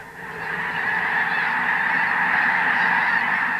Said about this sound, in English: A whole flock of snow geese rise up out of a field and fly over your head